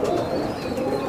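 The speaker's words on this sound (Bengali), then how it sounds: "প্রিয় দর্শক, আমি আপনাদের কবুতরটা দেখানোর চেষ্টা করছি।" A Teddy high flyer pigeon coos nearby in a continuous low, throaty murmur that stays even in loudness throughout.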